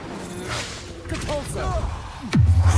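A whooshing Incendio fire spell bursts in the Hogwarts Legacy final boss battle against Ranrok, ending in a loud, sudden fiery blast and rumble after a stretch of softer magical sounds.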